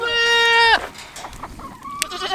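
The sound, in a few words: pygmy goat bleating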